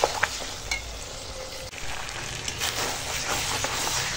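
Spoon stirring whisked yogurt into mutton head curry with stone-ground spices, cooking over a wood-fired clay stove; a steady close sizzle with scraping strokes runs the whole time, no voices.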